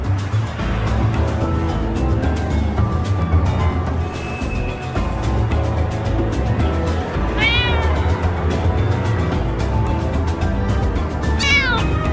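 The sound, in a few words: cats meowing in the video game Nick Bounty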